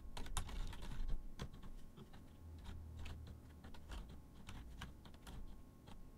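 A computer keyboard is typed on while entering a bank account name in Xero accounting software: soft, quick key clicks in irregular bursts, close and quiet, with no voices.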